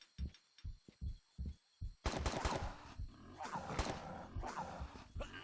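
Rapid bursts of NPC gunfire in Tomb Raider 3, a series of sharp, loud shots and rattles, preceded by several evenly spaced heavy thuds, with no talking.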